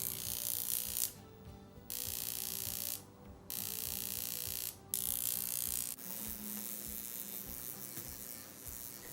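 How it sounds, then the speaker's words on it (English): An OxyDerm skin treatment device runs with a harsh mechanical buzzing rattle, cycling on and off in several short bursts before settling into a steady drone, quiet and close. "The sound of the OxyDerm is actually more intimidating than it is anything else."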